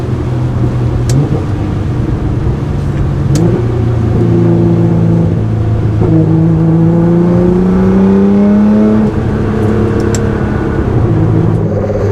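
A 600 WHP Nissan GT-R tuned to shoot flames: a loud, close engine revving up and down through downshifts, with rich popping and gurgling crackles over the droning exhaust and no talk.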